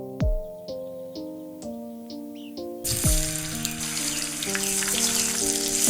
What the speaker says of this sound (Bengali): মাছগুলো ম্যারিনেট হয়ে গেছে, এবার আমি ডিপ ফ্রাই করে নেব